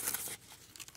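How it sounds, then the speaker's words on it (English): A quick, close rip of crepe paper, with a bright crinkling tear that fades into a soft rustle within a second. "then we can just do that and then rip it."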